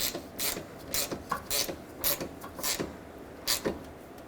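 A hand ratchet snugs the two bolts holding a 2007-2010 Chrysler Sebring A/C condenser, giving repeated close, crisp clicking bursts in an uneven rhythm with short pauses between strokes.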